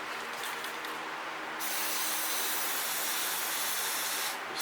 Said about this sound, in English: Some good old WD-40 silicone.